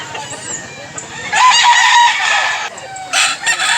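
A fighting rooster, a White Kelso from Mantalungon, Cebu, crows loudly and close in a long drawn call, followed by a second shorter crow and some clucking from nearby fowl.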